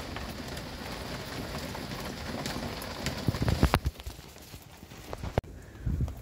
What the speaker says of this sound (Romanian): pare că chiar plouă